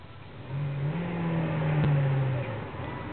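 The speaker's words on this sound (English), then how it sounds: "That's because I like listening to it rev up." Engine of a manual stick-shift car revs up and holds a steady mid-pitched drone for a couple of seconds before easing off, fairly quiet and heard from inside the car.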